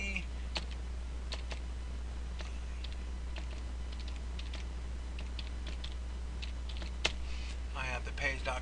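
Light clicks of a computer keyboard as a web address is typed, sparse uneven keystrokes over a steady low electrical hum, fairly faint and close, with a burst of voice near the end.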